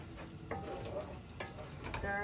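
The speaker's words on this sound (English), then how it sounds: "So just keep on stirring. Otherwise it's just gonna get sticky at the very bottom." Zhajiang sauce frying and being stirred in a pan, with a steady close sizzle and soft scraping strokes of the spatula throughout.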